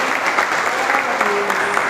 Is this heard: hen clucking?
no